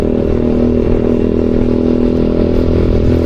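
A custom-modified motorcycle with trail-style handlebars idles loudly and close by, a steady, throbbing engine rumble without speech.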